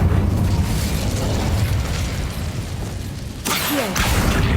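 An Incendio fire spell in Hogwarts Legacy bursts with a loud, roaring blast that sustains as a rushing rumble, then a sharper whooshing flare erupts near the end.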